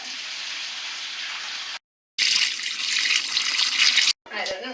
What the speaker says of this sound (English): we're going to start with adding our hot water, and then I'll add what cold water I need to onto that